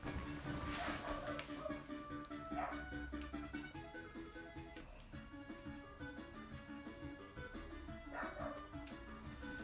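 A dog barks indoors at a cat, a few sharp barks and yips set low under music and game sounds from a retro console.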